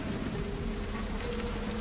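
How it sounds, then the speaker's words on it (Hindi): Rain during a thunderstorm falls as a steady, dense patter with a low rumbling undertone, continuous and moderately loud throughout. "तेज बिजली कड़कड़ाने के साथ बारिश होने लगती है।"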